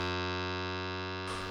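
Synthesized tones in Renoise with random LFO modulation, a steady stack of sustained harmonic tones that shifts abruptly to a brighter, noisier timbre near the end, with no talk.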